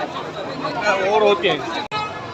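At the Shri Swami Samarth temple, a crowd of devotees chatters in a dense, overlapping babble that holds steady and then breaks off in a brief cut near the end.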